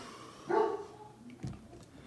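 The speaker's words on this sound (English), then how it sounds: "Mind the hound dog bark in the background." A hound dog barks twice in the background, a fuller bark followed about a second later by a shorter, fainter one, with no talk over them.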